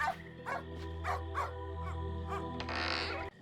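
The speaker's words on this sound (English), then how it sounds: "Not a fan of dog barks" A dog named Chippy barks in the video game Simon the Sorcerer Origins, with a string of short, fairly faint yaps in a loose rhythm over a steady low background hum, ending in a brighter noisy swell.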